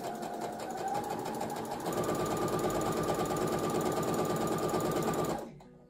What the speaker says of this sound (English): and then gently sew with a straight stitch.